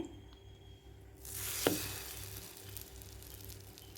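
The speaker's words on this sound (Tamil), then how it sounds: "இப்போ தவாவில் ப்ளேஸ் பண்ணிக்கிறேன்." A masala bread slice lands on a hot tawa with a soft thud, followed by a sudden, steady sizzle that continues close by at moderate volume.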